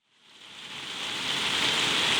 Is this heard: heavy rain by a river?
yes